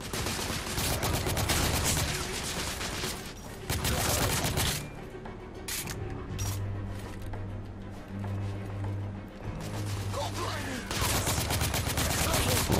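Gunfire in The Order 1886 video game on PS4, loud bursts of rapid rifle and machine gun fire in close sequence, with a brief quieter lull in the middle.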